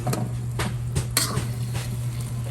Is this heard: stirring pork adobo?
yes